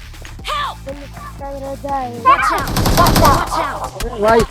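Gunfire crackles in BGMI (PUBG Mobile) gameplay: a rapid burst of shots around the middle, under and between a person talking excitedly in Hindi.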